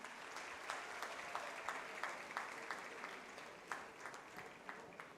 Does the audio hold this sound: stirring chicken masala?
no